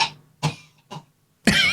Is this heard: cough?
yes